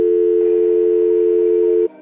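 A steady, loud telephone tone sounds for about two seconds and then cuts off abruptly as a call is placed on a quiz show, with no voices.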